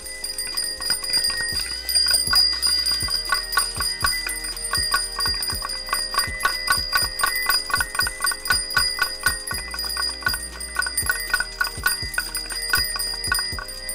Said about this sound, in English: So that was the 11 o'clock bell.